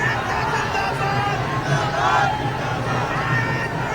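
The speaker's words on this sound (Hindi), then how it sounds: "भीड़ में विकास चाहिए, नीतीश मोदी चाहिए जैसे नारे भी सुनाई देते हैं।" A dense crowd of supporters at Amit Shah's road show in Purnia shouts and chants political slogans, a loud continuous roar of many voices with rising cries, close and alone.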